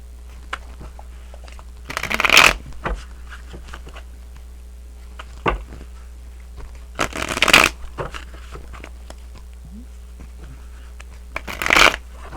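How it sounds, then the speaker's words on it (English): Tarot cards being shuffled in three separate short riffling bursts, close and crisp, with quiet gaps and light handling taps between them, no talking. "let's go ahead and pull some tarot cards for Scorpios."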